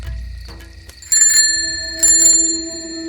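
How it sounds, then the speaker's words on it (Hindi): A bicycle bell rings on its own in a Hindi village story, giving two bright, metallic rings about a second apart, each trailing off in a shimmering ring over a quiet background. "अचानक साइकिल की घंटी अपने आप बजने लगती है।"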